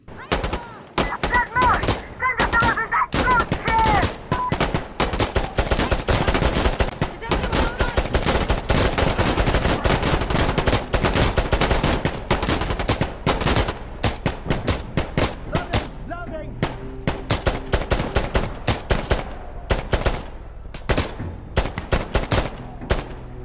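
Video game gunfire crackles almost nonstop, with rapid automatic bursts and sharp single shots from a first-person shooter, loud and close, with brief gaps between volleys.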